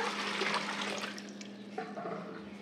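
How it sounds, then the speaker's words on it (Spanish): A litre of water poured into a container during a refrigerator clean, a steady rushing splash that fills the whole moment and eases slightly toward the end, with no voices. "Voy a agregar aquí 1 litro de agua"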